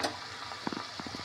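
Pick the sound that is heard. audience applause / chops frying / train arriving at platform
chops frying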